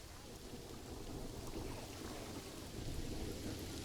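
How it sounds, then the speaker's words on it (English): Steady rain hiss with a low rumbling thunder undertone fills the ambience of the Planet Zoo video game, fairly faint and continuous throughout. "I love the rain in this game."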